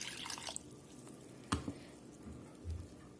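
Water poured into a mixing bowl of semolina and yogurt batter for dhokla, soft drips and a brief splash midway, faint and close with a quiet wet squish near the end.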